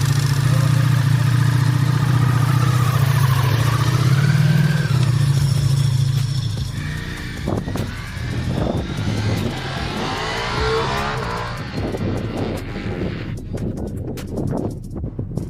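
A motorcycle engine idles loudly and steadily, then revs in uneven bursts with clattering mechanical noise, close by.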